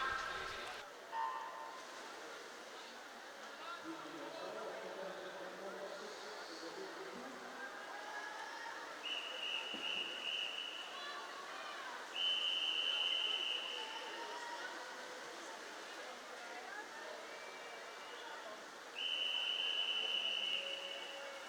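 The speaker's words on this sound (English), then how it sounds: "Might hear the whistles of the open pool just as we set that one off first" Referee whistles at an indoor swimming pool during an age group championship, several sharp shrill blasts, one short and two longer, sounding over steady echoing hall ambience and murmur.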